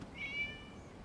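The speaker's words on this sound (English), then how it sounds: "It was just a cat." A cat meows once briefly, a short high-pitched cry heard quietly against a soft background hum in the video game Genshin Impact.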